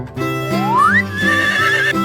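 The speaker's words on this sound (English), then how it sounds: "horse" A horse neighs once in a single loud, close whinny that rises sharply and then trembles in a long wavering tail.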